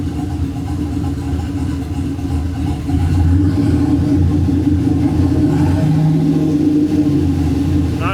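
An OBS car engine idles close by with a steady low rumble, growing slightly louder partway through and then holding even.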